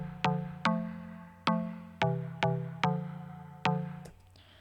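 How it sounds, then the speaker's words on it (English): Mallet synth built in Ableton's Sampler plays a slow progression of two-note chords, each struck with a sharp bright attack and a ringing decay, about seven hits at an even pace with no talking. "And there you go, a nice little mallet synth."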